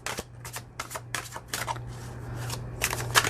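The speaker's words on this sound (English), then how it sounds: "It does shuffle like butter." A smooth-cardstock tarot deck with gold edging is shuffled close by, a rapid string of soft riffling bursts and papery flicks over faint background hum.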